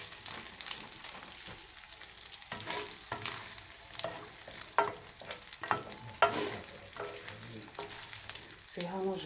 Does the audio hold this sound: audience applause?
no